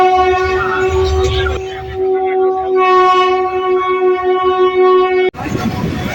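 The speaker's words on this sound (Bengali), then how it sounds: "দীর্ঘ 692 কিলোমিটার অতিক্রম করে 13009 দুন এক্সপ্রেস এই মুহূর্তে প্রবেশ করছে বারাণসী জংশন স্টেশনে" The 13009 Doon Express pulls into Varanasi Junction station, loud sustained horn-like tones ringing over a rumbling rush that cuts off abruptly near the end before a burst of broad noise returns.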